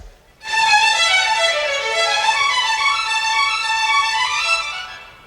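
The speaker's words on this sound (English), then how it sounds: "Now, using that Bach style, the rodeo music by Copland would sound like this." Strings playing Copland's rodeo music in a smooth, legato Bach-like style, a sustained harmonic melody swelling in after a brief silence and holding steady at moderate loudness with no talk.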